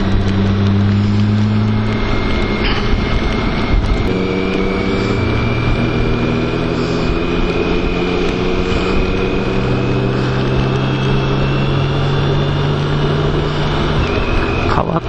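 A BMW K1600GT motorcycle on a road ride gives a loud, continuous engine drone with wind rush. The pitch swells and shifts as the bike accelerates and changes gear.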